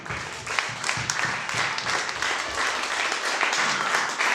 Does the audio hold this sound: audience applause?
yes